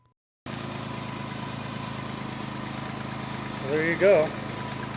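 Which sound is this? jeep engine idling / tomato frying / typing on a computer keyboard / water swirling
jeep engine idling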